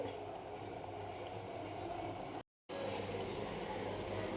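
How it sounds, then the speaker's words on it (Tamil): A pot of sugar syrup for jalebi boils steadily, a dense bubbling hiss heard up close at low volume, with a momentary gap partway through. "இன்னும் கொஞ்சம் கொதிக்கட்டு பாகு"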